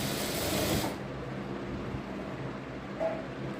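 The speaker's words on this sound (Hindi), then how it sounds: "यहाँ पे हम डबल सिलाई लगा लेंगे ताकि हमारा आसन फटे नहीं" A sewing machine runs in a fast continuous burst, double-stitching the front seat seam of a ladies' pant, then stops abruptly at about one second, leaving a faint room hum and a small click near the end.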